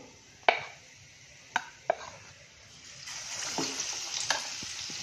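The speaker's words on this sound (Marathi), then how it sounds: "आता मी याच्यामध्ये तुम्हाला वडे सोडून दाखवते." Potato vada fritters slide into hot oil for vada pav: a few sharp clicks and plops, then a rising, steady frying sizzle that fills the second half.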